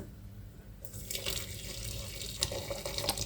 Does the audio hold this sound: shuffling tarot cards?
no